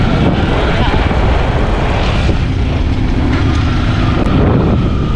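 An enduro motorcycle runs on a ride in Mindanao, a loud, constant engine drone heavily buffeted by wind rushing over the microphone, close and without letup.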